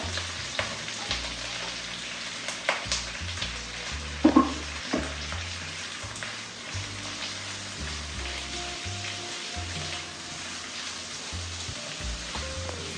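Green chillies and onions fry in a pan for chicken sundakkai mor kuzhambu, a steady close sizzle with spatula scrapes and stirring knocks recurring throughout, and a brief louder clatter midway.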